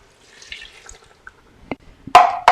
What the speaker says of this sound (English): And next we're going to add our half cup of water.